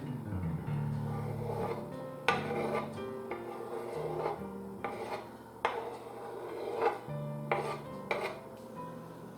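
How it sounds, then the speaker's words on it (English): Boiled eggs being chopped for egg salad, a run of uneven knife taps and scraping strokes against a board, close and fairly quiet over a low steady background hum, with no talking. "Chop eggs"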